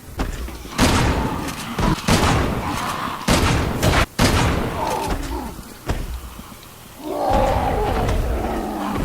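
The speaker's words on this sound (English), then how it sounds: "4 shots from the shotgun to take down a standard whopper" Heavy shotgun blasts in Resident Evil 6 fired at a whopper creature, four loud booming shots spaced a second or so apart, mixed with monster roars and groans.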